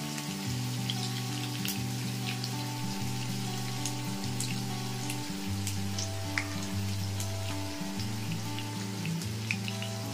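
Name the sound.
sliced onions frying in a pan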